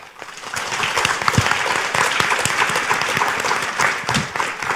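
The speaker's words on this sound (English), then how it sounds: "can I invite you to give a big round of applause to all attendees and speaker" An audience at a conference session on energy and critical infrastructure operation claps together for attendees and speakers, with dense, sustained applause and distinct individual claps standing out, rising quickly and holding steady throughout.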